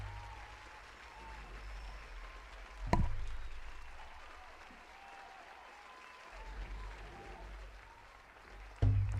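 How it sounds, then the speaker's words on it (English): Arena audience at a New York Knicks event applauding, a dense wash of clapping and crowd noise that swells and fades with sharp loud peaks near the start and end. "So let's just give them a round of applause."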